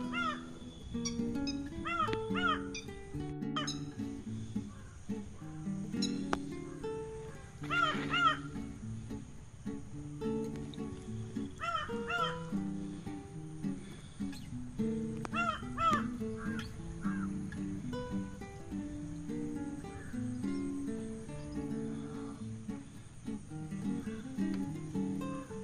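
Crows caw repeatedly in scattered bursts over riverside paddy fields along the Vasishta Godavari, with faint other birds, near and far, above soft background rumble and no talk.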